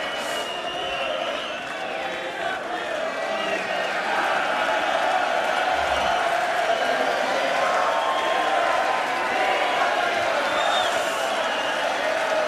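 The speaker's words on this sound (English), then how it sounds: "Peter Wright. Give him a cheer." A large crowd at a darts event roars and cheers steadily for player Peter Wright, a broad, continuous wash of voices and whistles filling the arena at an even, moderately loud level with no breaks.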